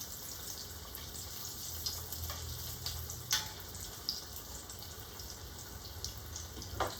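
Battered pickles fry in hot oil with a continuous close bubbling hiss and scattered sharp pops, holding steady throughout with no talking.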